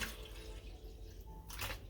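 Water being dumped out of a container while a bleached lace wig is rinsed, a faint, steady trickle and drip with a brief, louder splash near the end, heard alone without talk.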